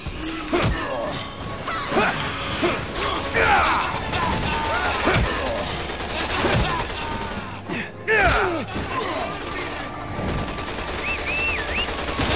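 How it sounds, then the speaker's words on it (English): Gunfire in the video game Resident Evil 6, a run of sharp shots scattered through a busy game soundtrack with cries and whooshing effects, while a player talks over it. "Now I can start shooting people."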